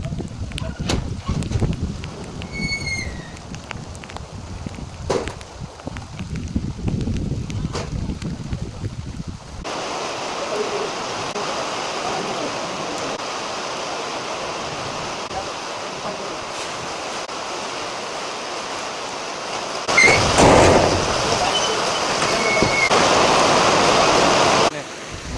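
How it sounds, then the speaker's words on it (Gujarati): A heavy rain and windstorm with hail in Babra taluka, Amreli district, sends a dense, loud roar of pouring water and gusting wind buffeting the microphone, with someone talking over it early on. "કરા વરસાદ વાવાઝોડું કેવો વરસાદ પડ્યો"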